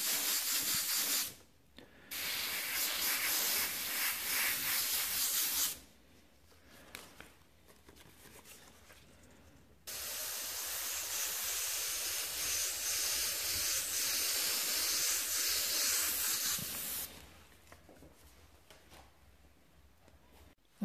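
An airbrush sprays paint onto a custom mural in close, steady hissing bursts, two long passes broken by short pauses, with no talk.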